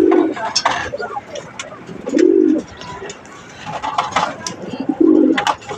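Pigeons cooing in a small loft, three loud, throaty coos a couple of seconds apart, close by, over soft rustling and faint background chirps.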